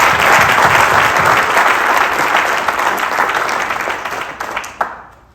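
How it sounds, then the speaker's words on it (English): Loud applause from the crowd at a St George Ironman press conference for the professional women triathletes, strong clapping that gradually tapers to a few last scattered claps and then silence. "A round of applause for our professional women."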